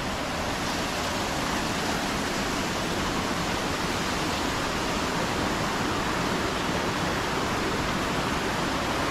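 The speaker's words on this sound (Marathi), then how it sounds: "खाली पाणी आहे, वरून पाणी येतं." Water rushes steadily beneath a living root bridge in Meghalaya, a loud, unbroken roar of flowing stream with no pauses.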